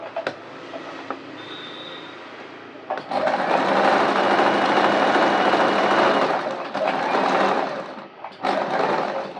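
A sewing machine stitches a mix-and-match kurti made from nighty material, running close and loud in long continuous whirring bursts with brief pauses between them.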